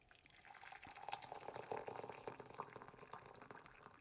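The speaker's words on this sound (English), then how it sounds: "Just going to pop some water in each of these." Hot water from a freshly boiled kettle pours into several containers, a soft continuous trickle and splash, faint and close, with no talking.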